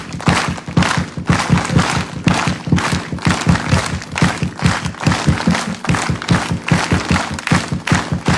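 A large crowd at a religious gathering on the Narmada applauds in honour of martyrs, producing dense, loud clapping that falls into a fast, steady rhythmic beat throughout.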